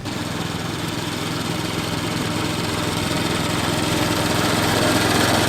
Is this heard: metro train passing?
no